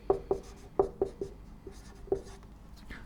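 Chalk or marker taps and scratches across a lecture board in short, sharp strokes, about eight quick marks in an irregular rhythm, close and fairly quiet with no talking.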